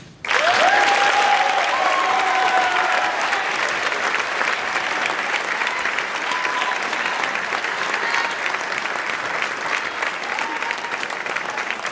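An audience at a high school senior awards ceremony breaks into loud, sustained applause that starts abruptly and carries on steadily for about twelve seconds, with a few cheers scattered through it.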